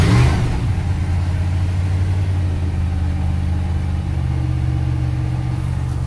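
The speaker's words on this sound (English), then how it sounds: "let's play around with the throttle a little bit here" Twin engines of a 1979 Sea Ray SRV 300 weekender boat run steadily with a deep, close, continuous drone as the throttle is worked, holding a fairly even level throughout with no talking.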